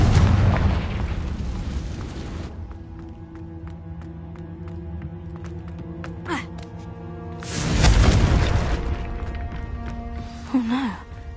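A Confringo fire spell blasts against a giant spider in Hogwarts Legacy, erupting as a loud booming burst that rolls out over a few seconds and then settles under the game's music.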